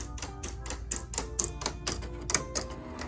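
A vinyl cutting machine cuts soft metallic vinyl with a weeding box around the design, making a quick series of sharp, evenly spaced clicks and taps over a low motor whir, close and alone.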